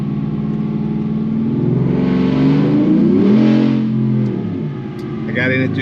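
A GM L83 V8 engine revving on a dyno as the transmission downshifts, a steady loud mid-pitched drone that rises and swells in pitch before easing off, with a brief higher tone near the end.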